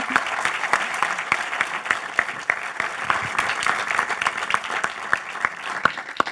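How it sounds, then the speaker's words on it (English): An audience gives sustained applause after a talk on being your own boss, dense clapping holding steady throughout with a few sharper claps standing out near the front. "a huge round of applause"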